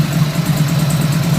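A 1997 Buell M2 Cyclone motorcycle idles through a custom MagnaFlow car exhaust with a heat shield, giving a steady, loud, low rumbling burble with an even pulse and no breaks.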